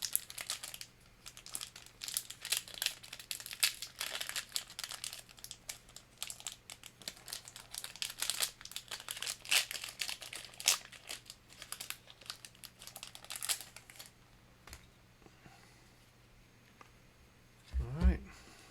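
Foil trading card packs torn open by hand, a long run of close crinkling and ripping bursts with brief pauses, a person talking intermittently over it.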